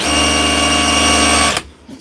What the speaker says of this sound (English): Hammer drilling, chiseling.